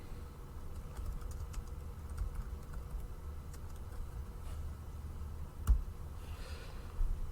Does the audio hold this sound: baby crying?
no